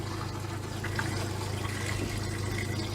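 Water with a dilute chlorine sanitizing solution runs steadily through the fresh-water lines of an RV, a continuous soft rushing and trickling flow that holds even throughout, with no speech.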